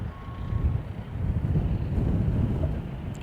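Gusty wind buffets the microphone at a stadium construction site, a steady low rumble throughout, with a faint vehicle reversing beep and machinery noise in the background.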